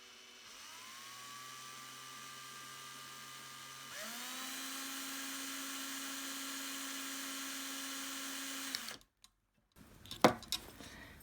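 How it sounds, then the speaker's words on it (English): A power drill twisting wires together whirs steadily close by, its pitch stepping up midway, then stops abruptly, followed by a few clinks and rattles. "then just start rotating the drill."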